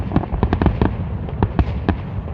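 Fireworks at Toronto's Victoria Day show go off in a rapid string of sharp bursts, some spaced apart and some close together, loud and moderately distant over a steady crowd background with no clear speech.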